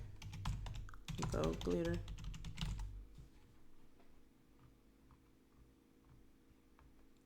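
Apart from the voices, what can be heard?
typing on a computer keyboard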